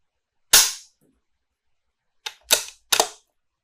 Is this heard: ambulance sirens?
no